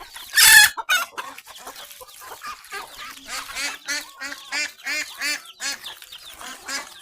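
Village domestic chickens and a rooster cluck in a rapid, close, repeated series, opening with a loud sharp call, with ducks among the flock.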